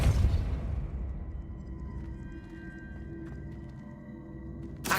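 Depulso spell cast in the video game Hogwarts Legacy: a loud booming burst that fades into a faint ringing tail, with a second sharp burst at the very end.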